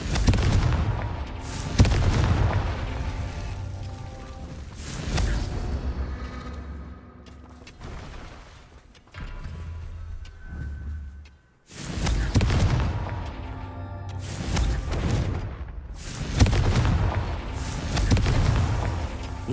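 Confringo fire spells in Hogwarts Legacy go off as a series of heavy booming blasts, several loud explosions arriving in clusters with brief quieter gaps between them.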